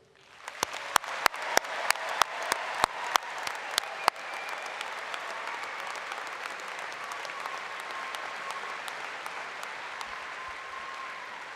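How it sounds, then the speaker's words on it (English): A few sharp individual claps start off, then build quickly into sustained applause from a large audience at a university commencement ceremony that continues evenly. "Please join me in a round of applause in congratulating these students on this happy occasion."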